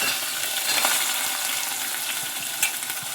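Chana dal, dried red chillies, green chillies and onion fry in a pan for a mushroom kuzhambu, making a continuous bright crackling sizzle up close with small clinks of stirring.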